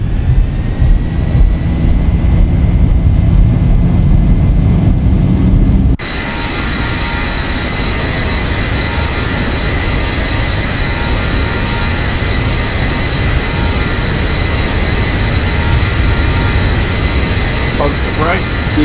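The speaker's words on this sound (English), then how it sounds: "So we'll bring our throttles up, make sure our engines are stable." Boeing 737-800 engines in the PMDG study-level flight simulator hold a loud steady roar that shifts abruptly in tone partway through and then settles into a sustained high whine.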